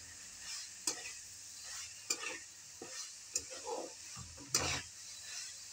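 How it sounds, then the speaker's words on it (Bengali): Soybean chunks fry and sizzle softly in a pan while a spatula scrapes and stirs them in several distinct strokes, close and fairly quiet, with no talking. "আমার সয়াবিনটা পুরো কষানো হয়ে গেছে।"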